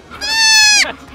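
A small goat on a ranch lets out a single loud, close bleat lasting under a second, calling for its mother, with a sharp wavering tone that drops off abruptly.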